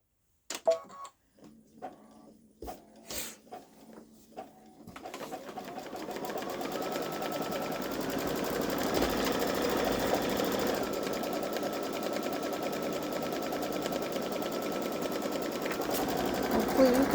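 Babylock Solaris 3 embroidery machine stitching, starting with a few separate clunks and then settling into a fast, steady buzzing whir that runs close and loud to the end, with a person speaking at the start.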